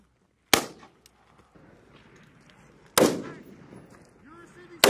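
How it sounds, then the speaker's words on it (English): Automatic gunfire at a U.S. Marine Corps live-fire training range, with two loud, sharp reports spaced apart and a third at the very end, each trailing into echo, and faint voices in between. "You're receiving automatic fire."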